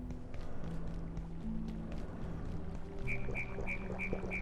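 A character drinks water in the video game Abiotic Factor, with soft gulping and pouring sounds followed by a series of short repeated chime-like tones near the end.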